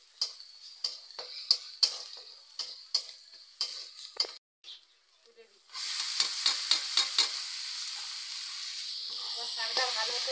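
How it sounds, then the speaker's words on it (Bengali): Water spinach greens with green chilies stir-fried in a pan: a spatula clicks and scrapes in an irregular rhythm, then a loud steady sizzle rises with repeated stirring taps, close and alone. "শাকটা ভালো করে নেড়ে চেড়ে হালকা আঁচে ভেজে নিতে হবে।"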